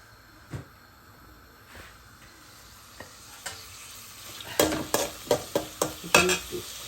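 Turnip curry fries with onion paste in oil, starting quiet with occasional isolated knocks, then a burst of close, rhythmic spatula scrapes and clatters over a gentle sizzle in the last few seconds.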